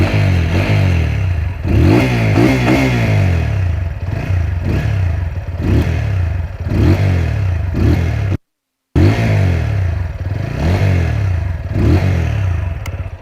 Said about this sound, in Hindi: इस मोटरसाइकिल का जो एग्जॉस्ट नोट है ये इस सेगमेंट